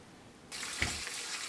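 Cold water poured from a tap over blanched tomatoes in a kitchen, a sudden rushing splash that starts partway through and continues steadily to the end, close and fairly loud.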